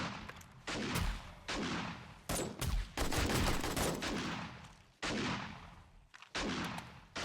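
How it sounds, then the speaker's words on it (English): Gunfire from players shooting off rooftops during a zombie-apocalypse night in 7 Days to Die, dense loud bursts of overlapping shots with booming blasts, separated by brief drops and swelling again repeatedly. "Look at everybody shooting off the rooftops."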